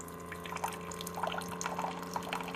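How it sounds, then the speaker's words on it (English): Hot water from a Keurig coffee brewer set to an 8-ounce cup, run as plain fresh water right after a cleaning rinse pod, trickles and drips steadily and softly into a cup for the whole stretch, with no voices. "I'm going to brew some hot water through here and see if that rinse pod did a better job of cleaning it."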